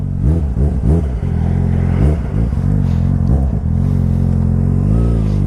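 A smooth-throttled sport motorcycle, billed as a rival to the Yamaha R6, revs loudly and close by in repeated rising and falling surges. It then settles into a strong, steady engine drone.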